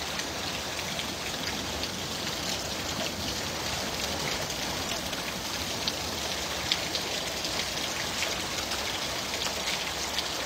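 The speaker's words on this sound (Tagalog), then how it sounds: "lakas ang ulan" Heavy summer rain pours down in Canada, a dense, even hiss of drops hitting surfaces that stays loud and unbroken throughout, with no voices.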